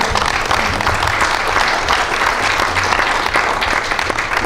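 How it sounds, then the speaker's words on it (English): An audience at a school district committee meeting gives the event organizers a round of applause, with loud, dense and continuous clapping that holds steady from start to finish. "They deserve a round of applause."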